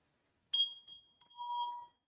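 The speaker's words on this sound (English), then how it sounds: "Hit that bell so that you know that you'll be prepared" A notification bell chime sound effect plays alone as a quick series of bright metallic dings, ending in a short sustained ring.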